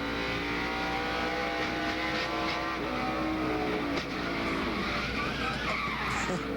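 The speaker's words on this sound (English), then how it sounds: "There he goes by the 45 car, Kyle Petty. Now listen to this" NASCAR stock car racing past on an 18-degree banked oval during the 2001 New England 300, a loud, sustained roar of engine and skidding tires as the car goes by, with a dense wash of other race cars behind it.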